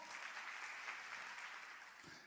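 A church congregation claps in a faint, distant patter that stays steady for a couple of seconds.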